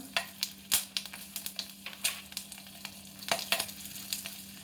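Black cumin seeds and green chillies sizzle and crackle in hot oil, a steady frying hiss broken by sharp, irregular pops and spits, close and fairly loud with no talking.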